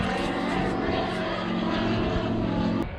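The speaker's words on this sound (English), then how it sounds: "I wish these planes would just bugger off, I swear to God." Steady, loud drone of a low-flying propeller plane passing overhead above a sheep-feeding paddock in rural Australia, a continuous engine roar with a buzzing propeller tone that holds for the whole stretch.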